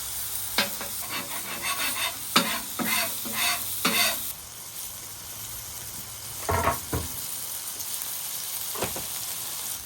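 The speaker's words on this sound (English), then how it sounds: "All right, burgers continue to cook." Burgers and onions frying on a griddle give a steady soft sizzle, broken by several scraping, stirring strokes in the first half and a couple more toward the end.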